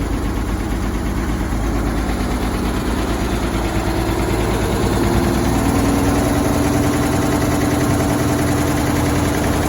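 A 1923 Buick Series 23 engine idles after a cold start with an even, steady mid-pitched chug and a faint mechanical knock. It runs continuously and close by, with no voices.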